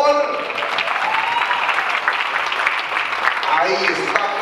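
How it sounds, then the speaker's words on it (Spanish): A crowd of guests applauds Hilda at a quinceañera celebration, thick continuous clapping at a fairly loud level throughout, with a voice briefly surfacing near the end. "un aplauso para Hilda, por favor"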